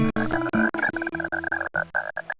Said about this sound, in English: The quiet conversation of frogs and toads.